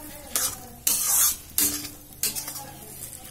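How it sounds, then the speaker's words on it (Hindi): Urad dal stirred and cooked in a pan over a low flame for kachori filling, giving repeated loud scraping strokes of a spoon against the pan over a gentle sizzle, close up and with no talking. "इसे हम स्लो आंच पे किसी तरह से चला चला के चारों तरफ से 15 मिनट तक पकाएंगे इसे"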